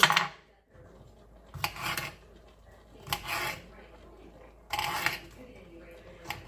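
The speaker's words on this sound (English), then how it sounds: "And then I'm just going to dice up this bell pepper." A knife dices a bell pepper on a cutting board in a home kitchen: several short bursts of quick chopping taps, close and crisp, separated by quiet pauses.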